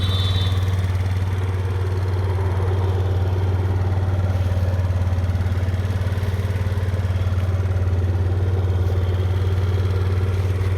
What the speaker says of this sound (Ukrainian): Двигун тихесенько працює.